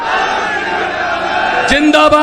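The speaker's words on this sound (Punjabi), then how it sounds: "ਸੋ ਦੋ ਨਾਰੇ ਇਨਕਲਾਬ ਜਿੰਦਾਬਾਦ ਇਨਕਲਾਬ ਜਿੰਦਾਬਾਦ" At an election campaign rally, a crowd shouts the slogan Inquilab Zindabad, a loud mass of voices near the listener that surges into a sharper collective cry at the end.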